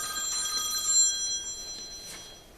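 A telephone rings during a tree board meeting, a thin electronic trill that sounds near the start and then fades, with the room otherwise quiet.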